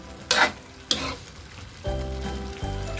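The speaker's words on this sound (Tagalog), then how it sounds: "Pwede nang haluin ngayon" Sliced radish and vinegar sizzling in a pan while being stirred, with two sharp scraping strokes early on, then a steady frying hiss close to the microphone.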